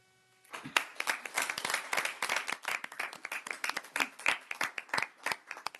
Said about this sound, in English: So if we can have another round of applause for them.